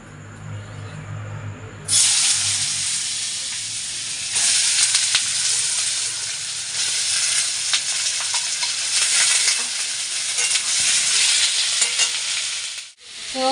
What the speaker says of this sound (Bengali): আলু পেঁয়াজ দিয়ে ভাজা করব আর ওর মধ্যে এই ডিমটা ভেঙে দেবো